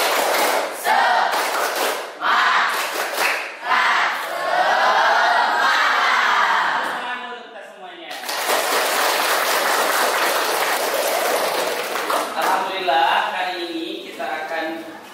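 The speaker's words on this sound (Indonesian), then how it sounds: "kita tepuk semangat dulu biar kita semangat" Classroom students perform a loud rhythmic clapping chant known as tepuk semangat, with bursts of claps and shouted voices in unison, a brief pause midway, then another energetic round.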